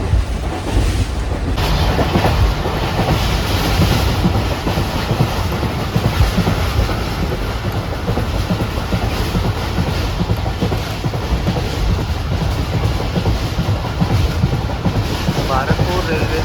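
The Pak Business Express 33UP, Karachi to Lahore, runs at speed past Bharatpur station: a loud, continuous rolling roar with rail clatter and wind buffeting, heard from inside the economy class carriage.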